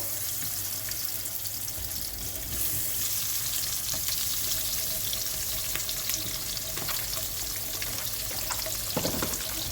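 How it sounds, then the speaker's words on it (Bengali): Eggs and shrimp frying together in a pan give a steady, close sizzle and crackle throughout, with light utensil clicks and no talking. "আমি এখন ডিম আর চিংড়ি মাছ দুটোই ভেজে নিব"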